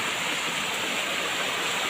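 A forest stream flowing over rocks, a steady close hiss of running water with no breaks and no talk.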